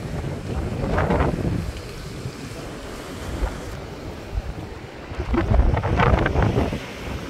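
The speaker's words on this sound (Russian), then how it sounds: "Ветер сильный, волны есть." Strong wind and rolling sea waves at Adler beach on the Black Sea, surf swelling and breaking in two louder surges with wind buffeting the microphone throughout.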